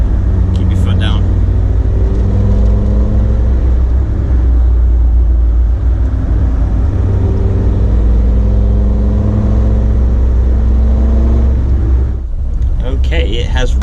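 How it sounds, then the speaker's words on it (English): A loud, steady Td5 diesel engine drone inside a moving car on twisty roads, with rising tones as it pulls under acceleration, continuous throughout. "It does make some noise when you keep your foot down."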